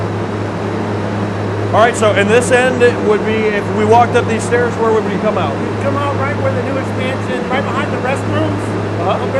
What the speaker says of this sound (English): You can hear another exhaust fan that's going on right now.